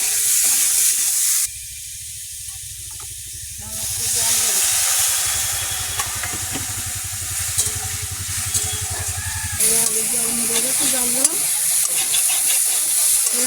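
Water poured into a pan of frying fish and potatoes sets off a loud hiss and steamy sizzle that settles into a bubbling simmer, broken by occasional stirring.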